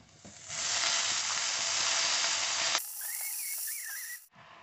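Spinach wilting in a hot wok gives a loud, steady sizzle and hiss that runs unbroken for several seconds, close up and alone with no voices.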